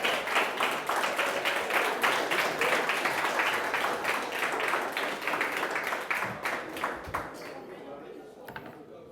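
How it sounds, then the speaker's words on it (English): Loud, sustained audience applause and cheering at a reggaeton awards ceremony honoring a DJ, dense clapping that carries for several seconds, then thins and fades toward the end. "Please give him a loud round of applause."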